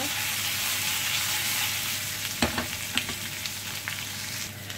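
Beef roast browning in a pan with onions for a roast beef and Yorkshire pudding meal, a steady quiet sizzle with a few light clicks and taps partway through, no talking.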